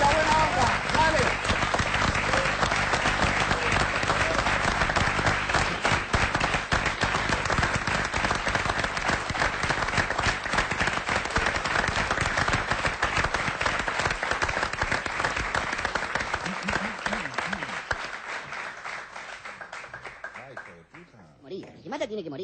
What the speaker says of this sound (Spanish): Vamos a ir al corte con un fuerte aplauso